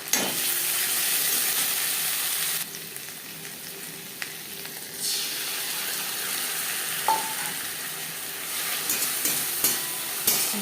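Chopped onion with ginger and green chili paste sizzles in hot oil, a bright continuous frying hiss that shifts in intensity as the pan is stirred, with occasional clinks.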